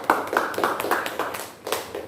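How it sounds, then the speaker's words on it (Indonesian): Classroom of students giving a short round of applause, a burst of quick overlapping claps at close range for about two seconds. "Tepuk tangan dulu semuanya."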